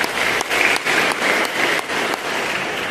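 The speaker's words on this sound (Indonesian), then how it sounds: "Tepuk tangan bagi Tuhan ya." A church congregation claps together in a steady burst of applause, a dense wash of hands filling the hall for a few seconds, with no voices over it.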